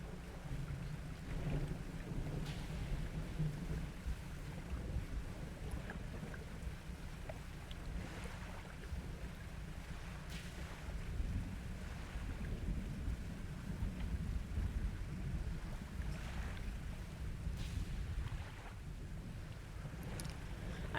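A storm in the fishing game Dredge: steady low wind and rain rumble with rolling thunder swelling several times, a boat's sea ambience underneath, moderately quiet and continuous with no talk.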